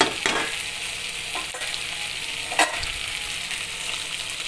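Potato and brinjal fry cooking in a pan, a close continuous sizzle with a few brisk scraping stirs of a spatula against the metal, no voices.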